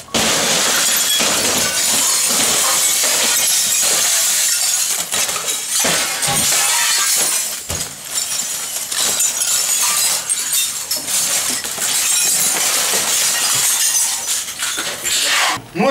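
Glass shattering during a police raid on a suspected terrorist hideout, a loud, dense burst of smashing and crashing that keeps up for the whole stretch, with scattered brief shouts underneath.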